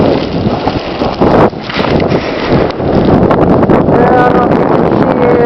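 Strong wind blows steadily through an April snowstorm with whiteout in southern Minnesota, a loud broadband roar with buffeting gusts hitting the microphone throughout, continuous and close.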